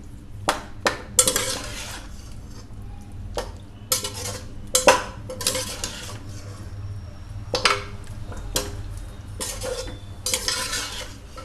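Mutton being mixed by hand with cumin and coriander powder in a pressure cooker, with repeated scraping and clinking strokes of a spoon against the metal pot in an irregular rhythm, close and fairly loud, no talking.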